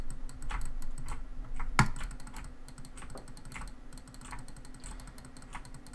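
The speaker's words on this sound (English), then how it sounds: "my clicks are really loud. My keyboard's really loud." A loud computer keyboard clatters during a Minecraft factions session, with rapid, uneven bursts of key presses and sharp clicks close to the mic, one especially hard strike standing out.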